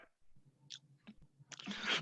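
A single sharp sneeze bursts out near the end, loud and close, after a quiet stretch of faint room noise and a few small clicks.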